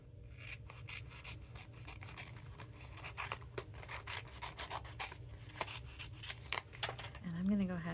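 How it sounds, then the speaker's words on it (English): Scissors snipping through a sticker sheet to trim it to paper size for a handmade dinosaur card, a steady series of close, crisp cuts with soft rustling between them. "And so I'm going to cut this to the size of my paper"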